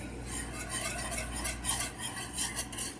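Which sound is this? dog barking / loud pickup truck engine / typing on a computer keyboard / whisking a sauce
whisking a sauce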